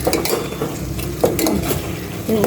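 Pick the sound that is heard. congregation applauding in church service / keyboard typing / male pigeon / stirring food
stirring food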